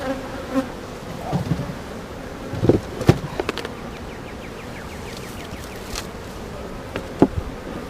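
Honeybees swarm around an open hive during a beekeeping inspection of the frames and brood box. A dense, continuous buzzing fills the air close by, with scattered louder passes of individual bees and a few light handling knocks.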